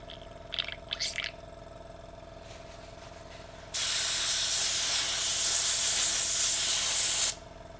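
An airbrush sprays paint for a sculpt in a steady, loud hissing burst lasting several seconds, preceded by a few short puffs and a faint background hum.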